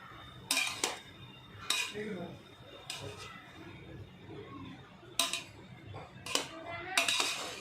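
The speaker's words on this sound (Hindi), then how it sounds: "अब हमें इसको इस तरह से मिक्स करना है जिससे कि हमारे चावल स्टिकी नहीं रहते हुए खिले खिले बने" Cooked rice for a Pune-style chicken daalcha meal is mixed in a pot, and a spoon strikes the metal rim in sharp, irregular clanks between softer scraping, while a voice talks underneath.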